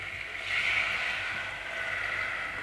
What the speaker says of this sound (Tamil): இப்போ நம்ம எடுத்து வச்ச புளி தண்ணியை சேர்த்துப்போம்.